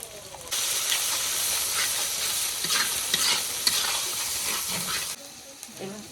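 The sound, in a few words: frying and stirring ginger and garlic paste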